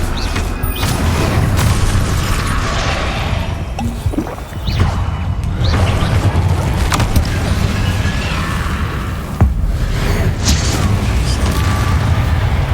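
Hogwarts Legacy spell combat fills the scene with constant booming blasts, crashes and magical impacts, loud and dense without a break, with a voice calling out spell names over the din.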